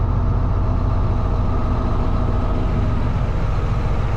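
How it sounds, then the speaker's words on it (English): Heavy low engine of a red farm tractor at a field after disking, a constant loud rumbling drone that stays steady and close throughout with no talking. "Here comes Dad with the red tractor."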